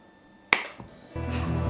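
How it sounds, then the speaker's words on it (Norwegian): A single sharp hand clap used as a sync mark rings out alone in a quiet room, followed by a faint thud and then steady low background noise. "Ta du også klapp når jeg starter, så kan jeg synke det etterpå."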